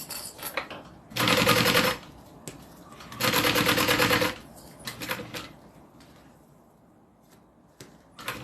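Sewing machine stitching a bag seam, cranked by hand around corners: two loud bursts of rapid mechanical stitching, each lasting about a second, followed by softer, shorter runs and quiet handling between them.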